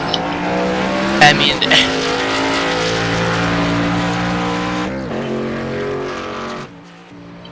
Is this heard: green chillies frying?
no